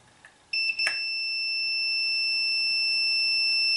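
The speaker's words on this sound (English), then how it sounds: "So I have my meter in continuity mode." A multimeter in continuity mode sounds a steady high-pitched electronic tone after a couple of brief clicks and chirps, holding on unbroken and fairly loud while testing a Manson EP-603 power supply's regulator output.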